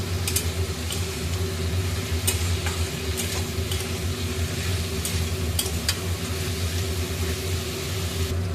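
Whole garlic cloves sizzle in hot oil for a Bihari egg curry, a steady close crackle and hiss with scattered sharp pops throughout and no talking.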